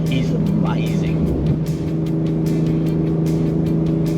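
A turbocharged Ford Ranger Raptor towing 2.5 tonnes drones steadily under load, its engine tone dipping briefly at a gear change before pulling on, heard close inside the cab with a voice speaking over it.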